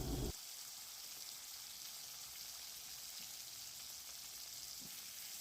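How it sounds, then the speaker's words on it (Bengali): Chopped tomato dropped into hot oil tempered with a whole bay leaf and cumin seeds, giving a steady, soft sizzling hiss with a brief louder burst at the start and faint stirring clicks. "একটা মিডিয়াম সাইজের টমেটো কুচিয়ে তেলের মধ্যে দিয়ে দেওয়া হলো।"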